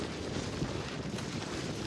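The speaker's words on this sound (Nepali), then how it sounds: "चिसो हावा आयो त यार।" Cold night wind blowing outdoors during a midnight bicycle ride near the lakeside in Pokhara, a steady, loud rushing buffet on the microphone that runs unbroken throughout with no pauses.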